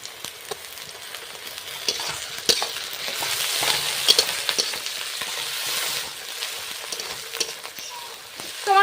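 Onions fry in a pan with bay leaves and garlic and ginger paste, a steady close sizzle with scraping stirs and occasional sharper crackles throughout, no talking.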